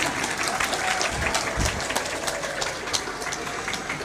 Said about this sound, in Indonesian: ya tepuk tangan, jangan ragu-ragu.